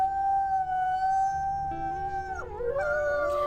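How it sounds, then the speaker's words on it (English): Wolves howl in the video game WolfQuest: long, sustained tonal cries that overlap as a second voice joins partway through, with the pitch bending and wavering toward the end, steady and fairly close. "it might actually be good to see if we can do a double howl"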